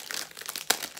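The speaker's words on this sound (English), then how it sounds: "Excuse the crinkling." A plastic haberdashery bag from a sewing kit crinkles in a quick burst of dry crackles, close and moderately loud, with one sharper crunch partway through.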